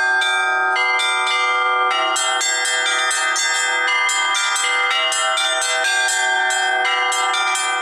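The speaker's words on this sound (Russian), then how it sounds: "звонари березинских и минских приходов совершали колокольный звон на четырех звонницах" Church bells ring continuously at a bell-ringing festival in Berezino, Belarus, in a dense, overlapping peal, several bells struck in quick succession with rich ringing tones, loud and close.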